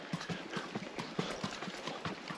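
A mule's hooves clip-clop steadily on the ground in an even walking rhythm, close and fairly loud, in a wilderness camp setting.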